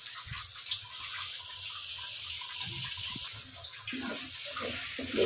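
Water runs steadily in a bright hiss, splashing as it pours into a cooking pot, close and fairly quiet, with no one speaking.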